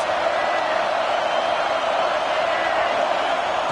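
Football stadium crowd at a game, a steady broad wash of distant cheering and murmur that fills the whole stretch without pause.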